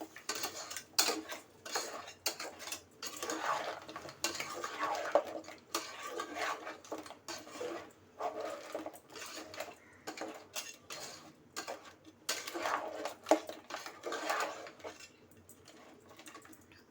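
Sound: sautéing garam masala in oil in a pan

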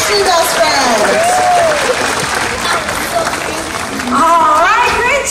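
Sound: audience applause at sea lion show

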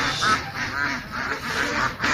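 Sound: ducks quacking

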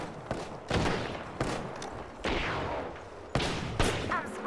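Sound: gunfire from a video game

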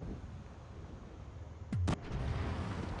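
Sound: tank gun shots in video game World of Tanks Blitz

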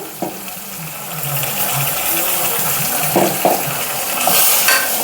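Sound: tomato, coconut, ginger and garlic paste sautéing in pan

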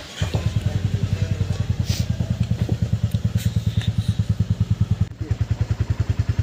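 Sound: motorcycle started and riding off

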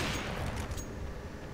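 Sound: gunshots in CS:GO video game

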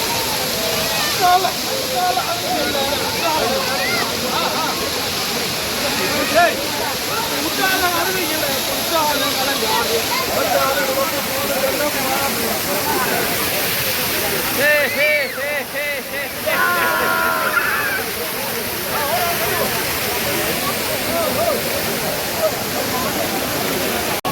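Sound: bathing under Courtallam waterfall

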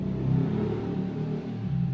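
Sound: motorcycle passing by

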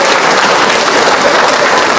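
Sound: applause

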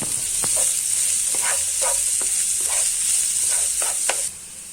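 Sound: onion with ginger, garlic, coriander and chili paste frying in pan

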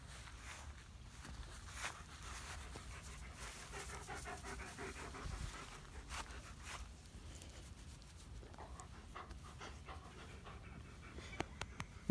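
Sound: dog panting

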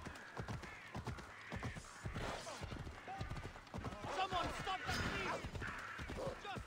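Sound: horse hooves clip-clopping, video game Assassin's Creed Odyssey

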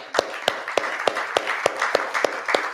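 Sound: audience applause

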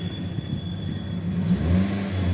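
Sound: Toyota Corolla Altis 1.6G engine revving

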